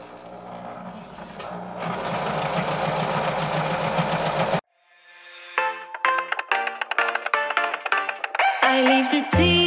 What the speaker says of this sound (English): Okay, so now I'm sewing the crotch down,